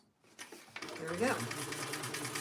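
A sewing machine starts up and runs steadily while top stitching around the top of a Roadie bag, with a voice speaking over it.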